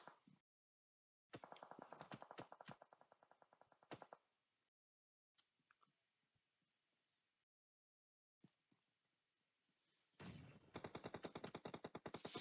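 Automatic gunfire in the PUBG Mobile video game, two rapid bursts of shots separated by a long quiet stretch, the second burst louder and sustained.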